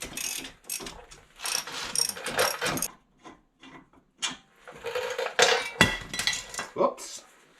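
Ratchet cracking loose bolts on a wheel hub of a 2005 Silverado during front wheel bearing replacement, with bursts of metallic clicking and clanking separated by short pauses, close and fairly loud.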